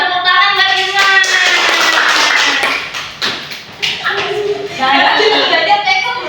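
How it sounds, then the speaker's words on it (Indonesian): A group claps together for a few seconds, the applause dipping briefly in the middle, with voices talking over it. "tepuk tangan buat Irma"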